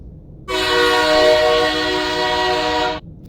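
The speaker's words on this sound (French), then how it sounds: "Oh, le métro, il y a un métro." A loud, steady horn-like tone with strong harmonics sounds for about two and a half seconds, starting and stopping abruptly: a subway train's horn.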